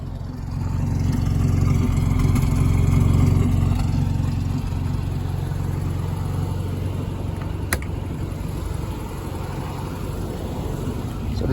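A 1982 Volkswagen Gol 1300 running on ethanol idles steadily after starting, its engine a close, constant low rumble that swells slightly early on and then settles, with no talking.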